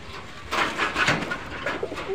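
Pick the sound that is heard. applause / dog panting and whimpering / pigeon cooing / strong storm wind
pigeon cooing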